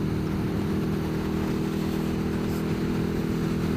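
Four Harley-Davidson Street Glide motorcycles ride past, their engines making a loud, steady low rumble that holds through the whole stretch with no pause.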